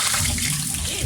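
Washed rice dropped into hot oil for vegetable fried rice, giving a loud, steady broadband sizzle and crackle that fills the whole clip with little change in level.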